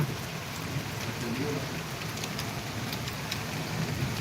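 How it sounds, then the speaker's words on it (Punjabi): Steady rain pours down throughout, a dense continuous hiss of drops striking surfaces, fairly close and unbroken, with no voices over it. "ਮੀਂਹ ਆ ਰਿਹਾ"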